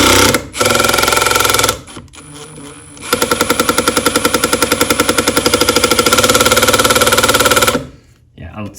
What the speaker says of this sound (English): let me drive this all the way down and really pay close attention to that screw as I'm impacting it down on it